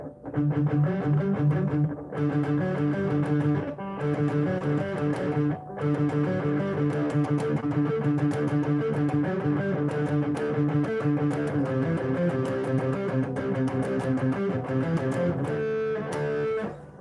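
Heavily distorted electric guitar plays a sustained riff, loud and continuous with a few brief breaks, no voices.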